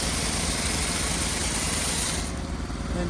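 Two large motors on a home-built firewood processor idle at the saw bar with a steady, close engine hum and a faint hydraulic whine. There is no talk.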